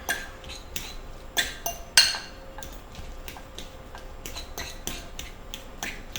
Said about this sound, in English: I'm gonna start mashing and getting this mixed together